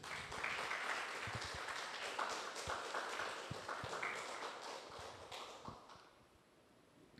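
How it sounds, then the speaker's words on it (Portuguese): Sustained applause from a church congregation during a worship service, dense overlapping claps continuing steadily for several seconds before tapering off near the end. "Palmas para Jesus"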